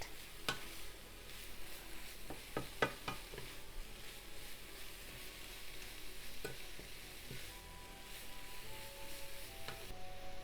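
Sliced carrots stir-fry in a pan over medium heat, a steady soft sizzle with occasional scraping stirs and light taps of the utensil against the pan, close and alone.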